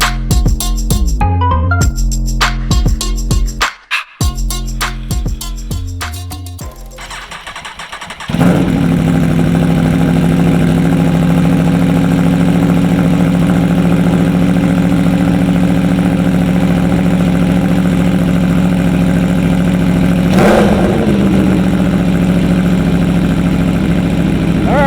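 An Aprilia Tuono motorcycle with a loud aggressive aftermarket exhaust pipe first gives several sharp, choppy bursts, then settles into a loud, steady, close idle with one brief rev partway through.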